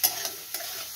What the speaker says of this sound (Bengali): এবার দেখুন মাছগুলোকে আমি একটু ভেজে নিই।